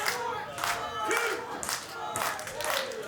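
A wrestling event crowd cheers and chants in repeated rising waves, loud and reverberant in an indoor arena, with shouts and some clapping mixed in.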